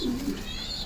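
Racing pigeons give soft, low cooing, a couple of murmured coos up close and fairly quiet, with no voices.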